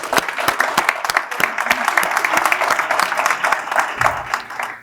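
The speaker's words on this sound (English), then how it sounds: "let's please give them a round of applause" Audience applause for the staff who organized a SECO Energy District 9 member meeting, with many distinct hand claps forming a steady, fairly loud burst that continues through the whole stretch.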